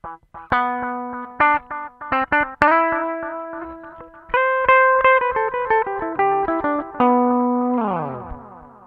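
Electric guitar through an Ibanez ADMINI analog delay with the blend knob turned up, playing plucked notes and chords. Faint repeats trail each note, and the playing ends with a descending slide.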